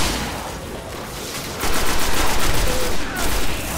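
Incoming gunfire rattles in the Destiny video game as a dense, loud, continuous barrage of crackling shots that swells midway and holds steady without pause.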